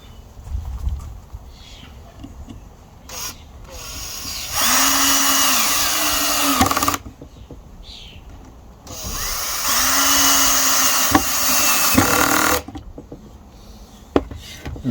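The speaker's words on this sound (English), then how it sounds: "So now we can put our other screws in." A power driver whirs twice, each burst about two and a half seconds, sinking screws into wood for a bench hook, with quieter handling clicks between the runs.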